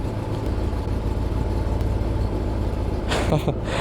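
A 2025 Kawasaki ZX10R with its stock exhaust idles in a steady, bassy rumble, then is revved hard near the end in a loud, rising burst.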